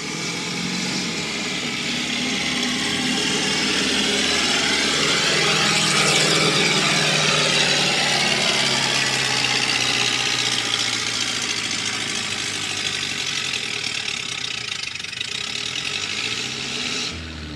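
A powerful tractor engine roars loud and sustained during a barnyard tractor pull at a county fair, a droning, rattling mechanical blast that swells and holds steady throughout.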